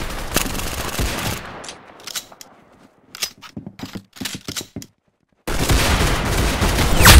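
Gunfire in the Arsenal video game: a dense burst of rapid shots, then a few separate cracks, a short silence, and a loud sustained volley that builds to the end.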